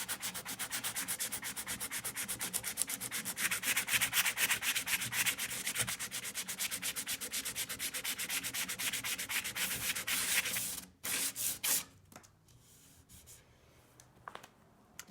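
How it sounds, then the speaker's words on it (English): Epoxy that oozed onto a kit car wing is sanded flat by hand, a steady close scratchy rubbing in fast repeated strokes that runs for about eleven seconds, then stops with a few faint scrapes and handling noises. "So we're going to sand that flat and then go ahead and reprime it."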